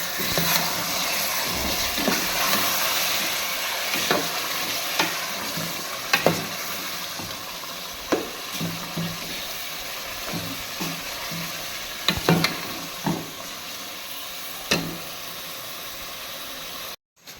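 Masala-coated chicken sizzles steadily in a pot for biryani, a continuous loud frying hiss punctuated by scraping stirs and occasional clinks, with no talking.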